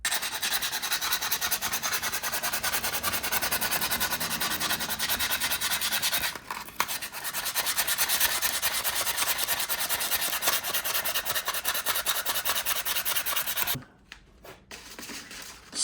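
Coarse 80-grit sandpaper scuffs a metal engine timing cover in steady, rapid back-and-forth strokes, rasping loudly and close. There is a brief pause midway, and the sanding stops near the end.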